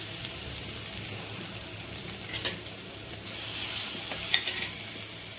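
Mustard seeds and green chili paste frying in oil for kadhi make a steady, fairly quiet hiss with a few faint crackles and stirring taps. The hiss swells slightly toward the end, and no one speaks.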